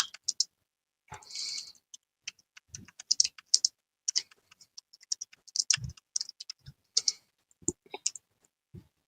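Someone typing on a computer keyboard, sparse and irregular close key taps with bursts and short pauses, fairly quiet with no talk.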